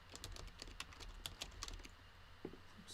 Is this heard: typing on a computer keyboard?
yes